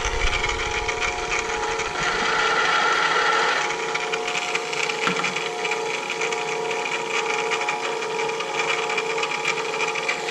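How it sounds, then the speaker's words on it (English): A countersink bit in a drill cuts holes into a wooden plate, giving a steady close whirring drone for about ten seconds with a louder, denser stretch near the start and no talking. "I'm just gonna countersink some holes."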